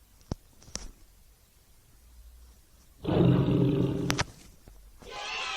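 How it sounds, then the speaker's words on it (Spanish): A tiger roars once, a loud sustained growling roar of about a second standing out over near silence, with a few faint clicks around it and a softer noise burst just after. "Es un tigre."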